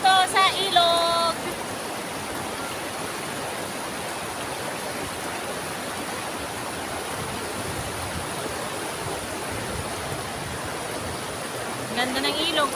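A river flows steadily in a dense, continuous roar of rushing water, with brief bursts of voices heard at the very start and end.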